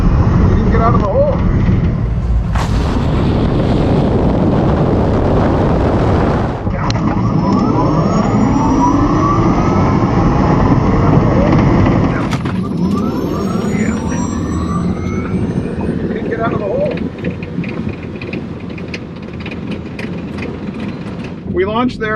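A Tesla Plaid drag race car launching on a quarter-mile strip, with a loud, sustained drivetrain roar and rising whine building and sweeping, then a second surge after a brief dip, while people talk over it throughout.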